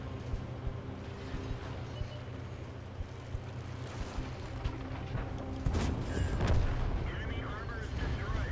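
Tank cannon blasts and heavy rumbling battle noise from World of Tanks gameplay, with booming shots and a louder surge late on, while someone talks over the action.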